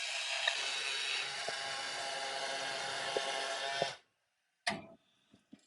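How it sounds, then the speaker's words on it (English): Disc or orbital sander smoothing the end of a small turned wooden baseball bat, a close, steady high whir that stops abruptly, followed by a few brief clicks and knocks. "I can just finish it off with the disc sander, with the orbital sander."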